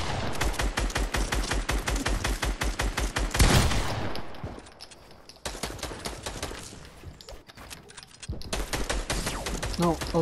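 Rapid bursts of video game gunfire rattle loudly through the first few seconds, fall away into a quieter stretch, then return as dense automatic fire near the end, with players talking over the action.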